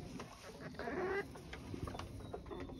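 Silkie chickens clucking softly at close range, a few short calls standing out over steady background noise with no talk.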